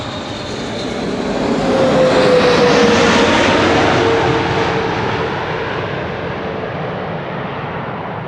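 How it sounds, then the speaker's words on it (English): A KLM airliner from Curaçao passing at Amsterdam Schiphol Airport, its jet roar swelling loud to a peak and slowly fading with a falling whine, no voices over it. "KLM flight 736 from Curaçao."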